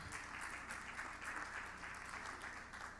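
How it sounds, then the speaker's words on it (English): A live audience at a journalism centre panel applauds Professor Adeniyi, a faint, even patter of clapping held at a steady level throughout. "Please, again, a round of applause for Professor Adeniyi."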